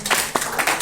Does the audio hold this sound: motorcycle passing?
no